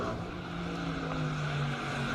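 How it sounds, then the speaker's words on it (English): Race car climbing a hill-climb course at the Speed Classic Cape Town King of the Mountain event, its engine a steady sustained drone held flat out, fairly distant and without talk. "that car sounds good all the way up the hill"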